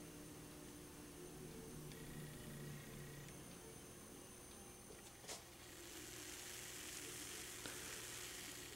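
Freshly poured Albino Rhino gluten-free beer from Nickel Brook fizzes with a continuous, faint, hissing crackle of bubbles, close and steady, growing slightly brighter toward the end, with no talk.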